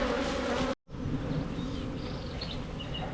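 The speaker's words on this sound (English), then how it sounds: "Still quite a lot of bees in here." Honey bees buzzing around a hive during an artificial swarm control: a dense, steady hum fills the air close by, cuts out for a moment, then returns with scattered higher whines of single bees flying past.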